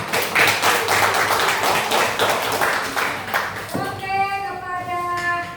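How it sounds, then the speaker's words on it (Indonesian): Clapping from a classroom audience applauding group 4 fills the first few seconds as a steady, dense patter, then fades as sustained tonal sounds take over. "kita beri aplaus kepada kelompok 4"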